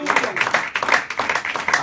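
Church congregation clapping in a sermon pause, a brief burst of dense applause with cheering voices mixed in, fairly close and lively.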